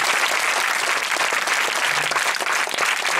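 A crowd at a Jagtial public event breaks into sustained applause for the district collector, steady, dense clapping from many hands filling the whole stretch without pause.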